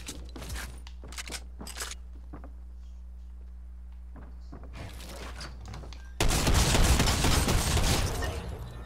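Shotgun fire in the video game Junkrift: scattered sharp blasts, then a loud, dense roar of gunfire and explosions that fills the second half.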